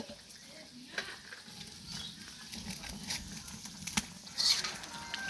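Silver fish added to a fried spice paste in a pan, a soft ongoing sizzle with occasional stirring knocks and scrapes, moderately quiet and close.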